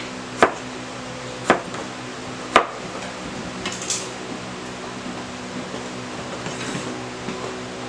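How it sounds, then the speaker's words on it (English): A knife cuts potatoes on a board in a home kitchen, three sharp separate chops about a second apart, then quieter scraping over a steady fan hum. "Charlie is cutting those taters up."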